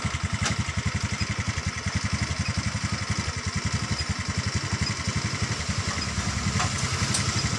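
Honda BeAT ESP scooter engine idling with a fast, even putter, close and loud, the steady chug rising slightly as the throttle is blipped, with faint clicks on top.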